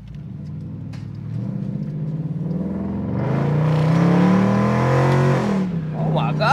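A Dodge Durango R/T's Hemi V8 engine revs and climbs in pitch, growing louder and holding a strained roar before easing off, with a voice briefly talking over it.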